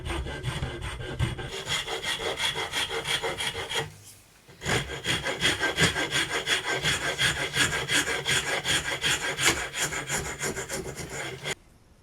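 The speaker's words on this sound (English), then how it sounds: "start filing again" A hand file rasps back and forth across a hardwood lure master in steady, close strokes. The filing runs for several seconds, stops briefly, then carries on at the same rhythm.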